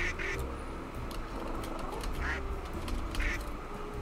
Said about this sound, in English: Is it a duck?